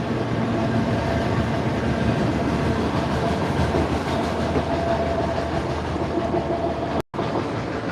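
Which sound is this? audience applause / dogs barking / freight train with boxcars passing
freight train with boxcars passing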